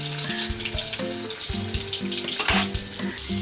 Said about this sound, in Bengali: কারণ চারদিকে তেল ছিটকাচ্ছে